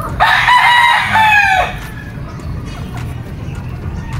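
A native game fowl rooster at a game farm crows once, loud and close, then the crow gives way to quieter farm background noise.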